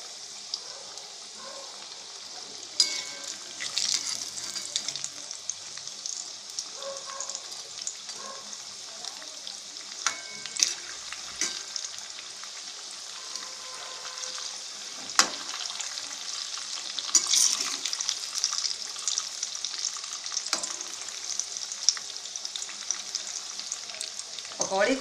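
Moong dal pakodas deep-fry in hot oil over a medium flame, producing a continuous bright, crackling sizzle with scattered sharper pops and occasional faint utensil taps, steady throughout.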